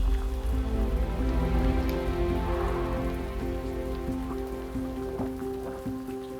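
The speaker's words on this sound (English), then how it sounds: "now it's chucking it down with rain" Heavy rain pours down steadily outdoors in Northumberland, a dense, constant hiss of drops drumming on surfaces that holds for several seconds without any talking.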